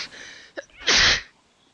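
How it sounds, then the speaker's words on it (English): One sharp, loud human sneeze follows a brief inhale and short gasp, close up with no talking. "Oh gosh, I feel like I have to sneeze."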